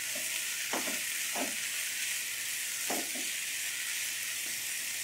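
Green onion mixture fries in a pan with a constant bright hiss, broken by a few brief scraping stirs from a utensil at moderate volume.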